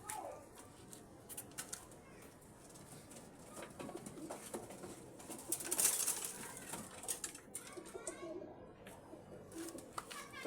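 Pet pigeons, freshly arrived in a home loft, coo softly with occasional wing flutters, faint and fairly close amid low household background noise.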